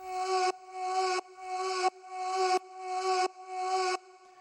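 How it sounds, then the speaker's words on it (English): A sustained atmospheric vocal sample from the Vengeance Essentials library, a hazy airy tone with steady harmonic layers, repeating in six even phrases that each swell and cut off roughly every 0.7 seconds, heard alone. "I found there's an atmospheric sound, which is just like a vocal."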